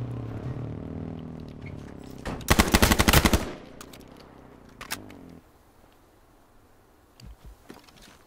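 Machine gun fire in a first-person shooter video game: one loud, dense, rapid burst lasting about a second, followed by a few scattered single shots and faint clatter against a quiet background.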